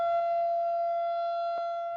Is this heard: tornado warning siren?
yes